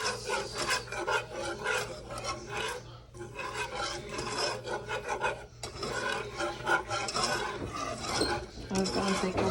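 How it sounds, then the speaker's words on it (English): A spoon scrapes and rasps around a pot as thickening mac and cheese sauce is stirred over low heat, steady repeated strokes close up with a few brief pauses. "you just want to keep stirring on low heat until there's no more clumps"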